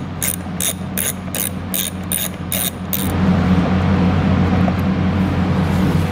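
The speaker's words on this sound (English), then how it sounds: "grab a 10mm socket, and we'll go ahead and get this bolt off" A ratchet wrench with a 10mm socket turns a bolt on a 2020 Tesla during a hitch install, giving seven quick, rhythmic clicking bursts, loud and close, before steadier mechanical noise takes over.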